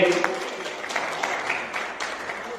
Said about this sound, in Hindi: एक बार जोरदार तालियों से अभिनंदन कीजिए।